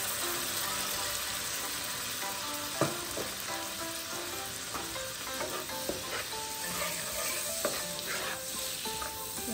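Red wine poured into a hot pan of Dungeness crab sizzles and crackles steadily, with stirring clinks and scrapes throughout and sharper pops near the three-second mark.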